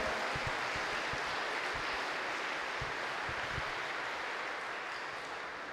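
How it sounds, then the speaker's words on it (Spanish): An audience applauds at a Christian trova concert. Dense, steady clapping fills the room and slowly fades toward the end. "Fuerte el aplauso para los que quieran vivir de verdad"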